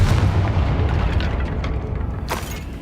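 A Confringo fire spell detonates in the Hogwarts Legacy PC game: a heavy, deep boom opens, rumbles on, and a second sharper burst cracks out near the end.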